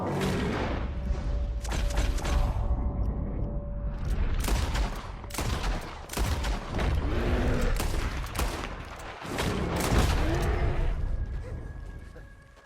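Gunfire in Red Dead Redemption 2, a rapid run of loud, sharp shots and blasts fired in bursts with short gaps, close and dense, with no speech.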